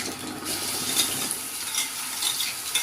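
Onion fries in oil in a wok while being stirred, giving a steady hissing sizzle broken by light scraping and clinking of the utensil against the pan.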